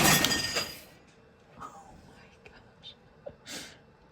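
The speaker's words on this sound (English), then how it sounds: "that was my cat knocking over an entire cart of supplies" A cat knocks an entire cart of supplies over, giving a burst of crashing and glassy clinks at the start, then scattered rattles and knocks dying away in a room.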